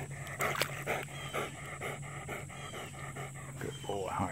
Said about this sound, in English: I heard a dog paddling, but that's ridiculous. That's some crazy dog paddling.